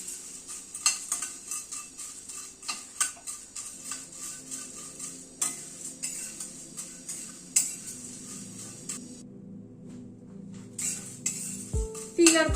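Sesame seeds and cornflakes dry roasting in a pan, stirred with a utensil: steady light scraping and clinking taps against the metal, close and moderately quiet, continuing for several seconds with brief pauses.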